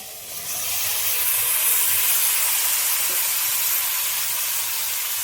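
Bottle gourd goes into a hot pan with lemon peel for a gourd and shrimp dish and sizzles, a loud, steady hissing that rises quickly and holds, close and unbroken, with no talking.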